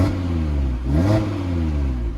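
A 2020 Audi RS3 engine blips up in a short rev, its pitch rising and falling back to idle, close and loud with no talking.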